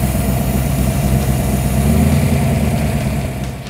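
A car engine idles loudly and steadily up close while its ignition timing is being set with the vacuum advance disconnected, a constant throbbing hum that fades slightly at the very end.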